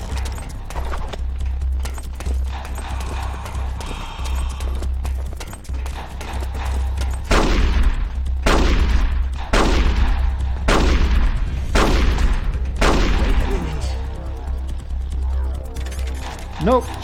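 Gunshots ring out in Metal Gear Solid: The Twin Snakes, a series of about five loud, evenly spaced blasts with decaying tails over a low rumbling backdrop, with scattered voices and game sounds before and after.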